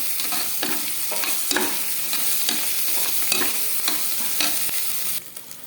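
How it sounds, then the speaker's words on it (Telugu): Ginger garlic paste and onions frying in a pan for chicken curry, a close steady sizzle broken by regular scraping stirs, ending abruptly, with no talking. "ఇప్పుడు దీనిలో ఫ్రెష్గా నూరుకున్న అల్లం వెల్లుల్లి పేస్ట్ వేసుకొని పచ్చివాసన పోయే వరకు బాగా ఫ్రై చేసుకోవాలి."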